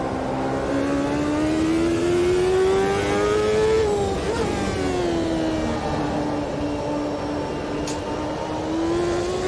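A race car engine from the Automobilista 2 racing game drones steadily at high revs, pitch rising and dipping slightly through gear changes and cornering, loud and alone.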